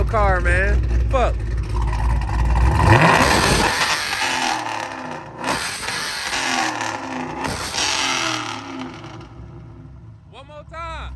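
A car engine revs at a car meet, throaty rising and falling bursts up close, with people talking loudly over and between the revs.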